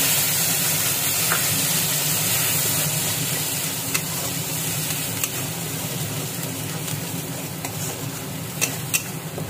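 Ground onion paste sizzling and frying steadily in a pan for a spicy pomfret fish curry, a continuous close hiss with a few light stirring clicks and no talk.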